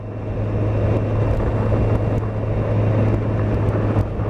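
A 2016 Kawasaki Z1000SX motorcycle engine runs under load, a steady loud drone with a strong low hum and wind rush that holds at an even level throughout, no voices present.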